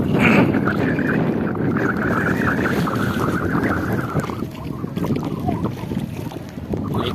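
Strong wind roars and buffets the microphone continuously while kayaking, with a low engine-like drone and water rushing beneath it.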